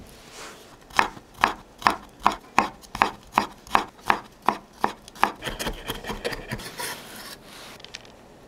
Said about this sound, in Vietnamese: mình đập dập và băm nhuyễn 3 tép tỏi